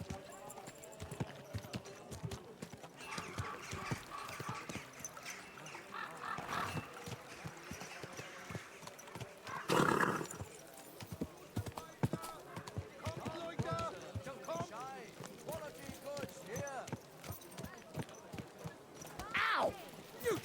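Rhythmic horse hoof clip-clops on a hard street mix with a busy crowd of voices, with occasional honking fowl sounds rising above the bustle, in the game Kingdom Come: Deliverance II.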